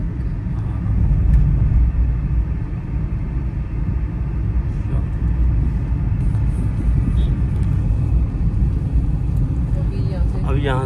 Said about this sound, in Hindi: इसको इंजन ब्रेकिंग कहते हैं।